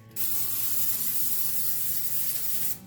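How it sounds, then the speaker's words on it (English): A single long spray of butter-flavored cooking oil hisses steadily from a can for a couple of seconds, close up, then cuts off. "I'm just going to coat the top of these with the butter spray lightly"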